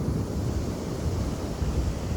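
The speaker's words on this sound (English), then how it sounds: "The waves are so gentle." Gentle ocean waves wash in a steady, continuous rumbling surf, heavy with low-end wind buffeting on the microphone and no pause or voice.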